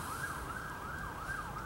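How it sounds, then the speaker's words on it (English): An emergency vehicle siren wails along US 61 in Louisiana, sweeping up and down in a steady repeating cycle at moderate distance over faint road rumble, with no talking. "More sirens, US 61."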